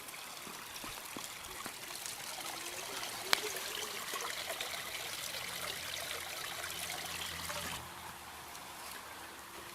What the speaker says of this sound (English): get a little bit of water in it